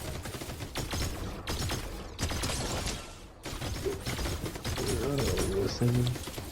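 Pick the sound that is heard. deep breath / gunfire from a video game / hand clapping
gunfire from a video game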